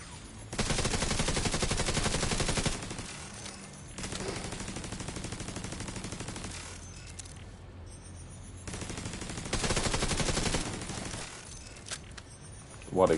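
Sustained automatic gunfire in The Division 2 on PS5, three long rattling bursts of several seconds each separated by quieter gaps, loud and steady, with a sharp clatter at the very end.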